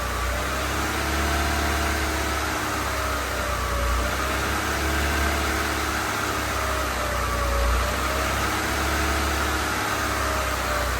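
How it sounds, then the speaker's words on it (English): An EK Honda Civic hatchback engine idles with a low, uneven rumble that pulses irregularly for about eleven seconds, close and steady in loudness, with no talking. "That's a weird idle."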